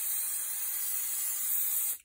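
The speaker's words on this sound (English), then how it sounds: "I give this another coat of the spray and shine" Spray-and-shine coating hisses out of an aerosol can onto a journal cover in one steady close burst of about two seconds that cuts off sharply, with no voices.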